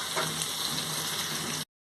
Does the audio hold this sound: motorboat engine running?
no